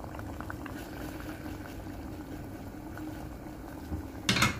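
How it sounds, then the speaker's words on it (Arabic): Meat tajine with cinnamon and salt bubbling in a pot, a close, continuous low gurgling boil with a brief louder splash of bubbles near the end. "طلع فيه واحد شويه، يغلي واحد شويه"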